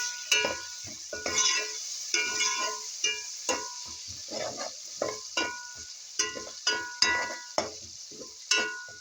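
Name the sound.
sauteing garlic and onions in a pan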